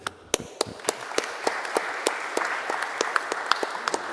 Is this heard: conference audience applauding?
yes